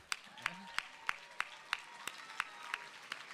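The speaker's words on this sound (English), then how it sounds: "Big round of applause for Emily." A lone person claps slowly and evenly for Emily at a gathering, about ten sharp claps spaced at a steady beat over a faint, quiet room.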